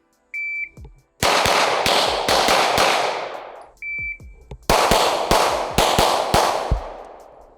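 Glock pistol fired in two quick strings of about four or five shots each at a five-yard box drill, sharp loud cracks with ringing tails, each string preceded by a short electronic beep from a shot timer.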